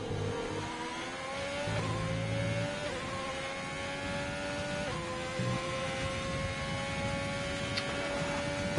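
F1 racing cars in a video game lapping the Belgian circuit, engines droning and revving continuously at moderate level with rising pitch sweeps as cars pass, no voices.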